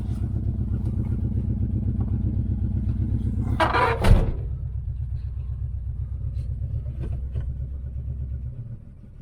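The engine of a 1973 Pontiac LeMans that sat unused for 25 years idles with a low, steady rumble, then clunks as it is shifted into gear, and the idle continues before dropping near the end.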